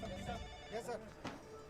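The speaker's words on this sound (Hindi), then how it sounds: "लो, फोन आ भी गया। उठा ले।" A telephone rings in a Hindi film scene, a steady electronic ring sounding through the background beneath a voice.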